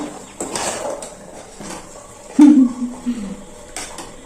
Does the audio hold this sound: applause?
no